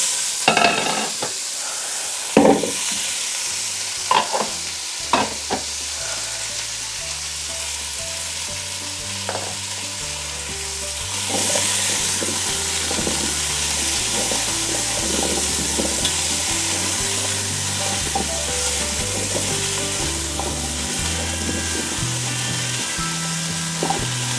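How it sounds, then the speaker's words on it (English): Onions and carrots fry in a Ninja Foodi multicooker for a lamb shank stew, giving a steady broadband sizzle that swells partway through, with sharp utensil knocks and scraping stirs early on and no one talking. "I'm just going to add the onions and carrots."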